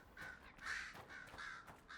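Crows caw in the video game Dragon Age Inquisition; three or four harsh, rasping calls repeat in quick succession at moderate volume, fairly close, with no talk over them.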